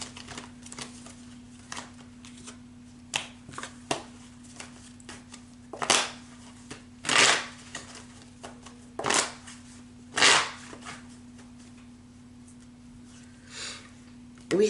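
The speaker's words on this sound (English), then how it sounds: "shuffle kind of crazy" Tarot cards are shuffled in uneven bursts of crisp riffling and slapping, some sharp and louder, with a steady low hum underneath.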